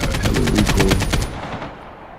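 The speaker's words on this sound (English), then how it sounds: "Hey, yeah, shoot with that." Rapid burst of automatic machine-gun fire in a video game, loud and close, about ten evenly spaced shots over a second and a quarter before trailing off into a fading echo.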